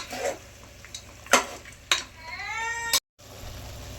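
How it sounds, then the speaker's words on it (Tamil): Mutton with curry leaves and salt is stirred in a pan, giving a few sharp scraping clacks over a faint sizzle, followed by a rising meow-like squeal and then a brief dropout. "மட்டனும் கருவேப்பிலையும் போட்டுட்டு இதுக்கு தேவையான உப்பு போட்டுட்டு ஒரு 2 நிமிஷம் அப்படி கிளறி விட்டுக்கலாம்"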